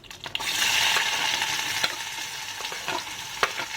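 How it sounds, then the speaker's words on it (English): Chopped onion hits hot oil already crackling with mustard seeds and cumin in a pan on the stove, a loud bright sizzle that settles into steady frying, punctuated by a few sharp pops and spoon scrapes. "Now I will add some onion."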